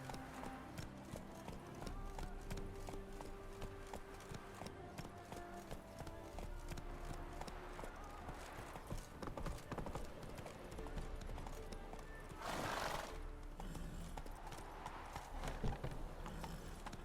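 Horses gallop in a video game, a thick layer of rapid clip-clop hoofbeats running throughout with occasional whinnies, under faint game chatter and ambient battle noise.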